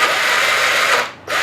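The electric motor of a Losi Rock Rey RC car whines loudly and steadily as its wheels spin, dipping briefly in pitch and volume before surging back up.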